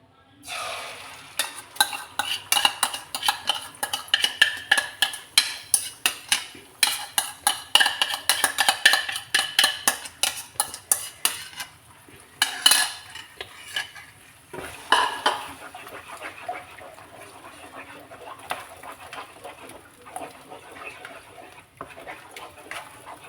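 A spoon stirs chattipathiri batter mix in a pan, making rapid, close metallic scrapes and clinks in a busy rhythm that later thin into softer, scattered stirring.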